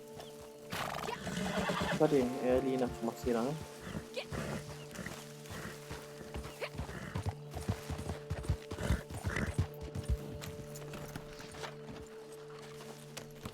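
A horse whinnies loudly near the start, followed by steady clip-clopping hooves over a droning soundtrack in Red Dead Redemption 2 Online, with a person speaking briefly.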